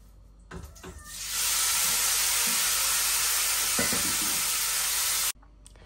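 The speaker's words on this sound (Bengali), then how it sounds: "এখন মাছটা ভাজা নিব" Fish is dropped into hot oil in a pan, setting off a sudden loud, hissing sizzle that holds steady for about four seconds, with a few clatters, before it cuts off abruptly.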